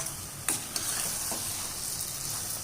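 Onions frying in a pan on medium heat as they are stirred, a steady sizzle with a few sharp scrapes and clicks of the spoon against the pan, close and moderately quiet.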